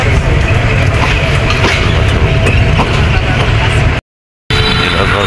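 A loud, steady rumble of a train at Majhgaon railway station, Sylhet, with faint rhythmic clatter and people talking over it, briefly dropping out before resuming.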